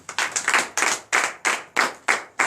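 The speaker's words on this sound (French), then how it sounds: "Donnez l'acclamation à Seigneur." Worship congregation at a night deliverance and prophecy service in Comè, Benin, clapping hands in acclamation: eight sharp, evenly spaced claps, close and fairly soft, with no voices.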